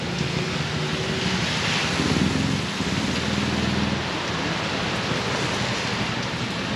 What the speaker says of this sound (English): And it's raining. Down.